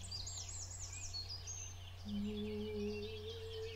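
Spring birdsong, faint and distant: small birds chirp and trill in scattered repeated phrases over a steady low hum.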